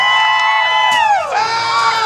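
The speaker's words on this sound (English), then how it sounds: "Cheer them on, ladies and gentlemen!" A crowd at a jousting tournament cheers and whoops loudly, with rising and falling shouts that swell and then ease over a couple of seconds.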